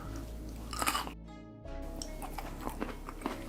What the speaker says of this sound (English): Coleslaw is nice and creamy, really nice crunch to it.